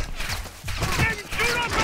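Gunfire in Call of Duty Modern Warfare II campaign combat: rapid bursts of shots and impacts crackling in a dense, loud battle mix, with shouting voices over the top.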